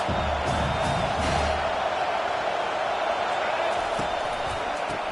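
Stadium crowd noise from a college football video game, a steady loud roar of cheering fans on a big third down, running continuously under a commentator's voice.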